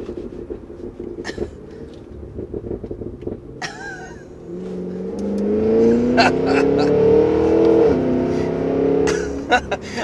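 A 2023 Cadillac Escalade V's supercharged exhaust revving, first a low rumble under laughter and talk, then a loud rising, droning engine note that climbs and holds before dropping back, with people talking and laughing throughout.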